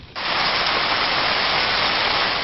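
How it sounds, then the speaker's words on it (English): Heavy rain starts abruptly and pours down as a dense, loud, unbroken hiss. "Heavy rain made driving very dangerous"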